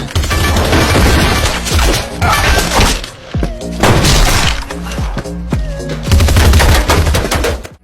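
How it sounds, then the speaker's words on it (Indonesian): Heavy gunfire fills a bank robbery movie scene, with rapid bursts of loud, close shots, crashing and shattering impacts, and thuds that come in dense waves with only short gaps. "Mendengar suara tembakan"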